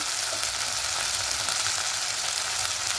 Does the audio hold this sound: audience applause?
no